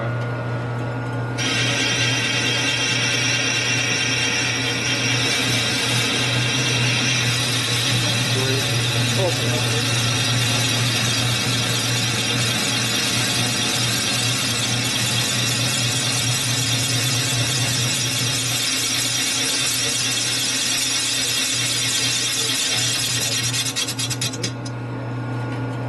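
Machining cut across a 1966-74 Harley-Davidson shovelhead cylinder head being repaired after a blown head gasket: a steady, unbroken grinding rasp that holds for about 25 seconds over a low constant hum, then stops abruptly.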